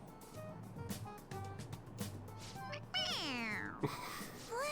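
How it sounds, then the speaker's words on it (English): A squeezable stuffed toy cat in a Persona 5 Royal game scene lets out a sharp, bright meow near the end, preceded by game chatter and short musical tones, fairly quiet overall. "It meows when you press on its head."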